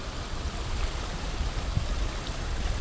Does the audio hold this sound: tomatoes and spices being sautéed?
no